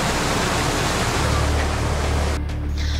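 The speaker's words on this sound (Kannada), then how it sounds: "ಹೊನ್ನಾವರ ತಾಲೂಕಿನ ಗುಂಡಬಾಳ ನದಿ ಅಬ್ಬರಿಸುತ್ತಿದ್ದು ಮನೆ, ಅಡಕೆ ತೋಟ, ಹೊಲಗಳಿಗೂ ನದಿ ನೀರು ನುಗ್ಗಿದೆ" A flooded Gundabala river in Honnavar taluk roars steadily, spilling into homes, areca plantations and fields; a loud, continuous broadband rush of water fills the whole stretch without a break, with no voices.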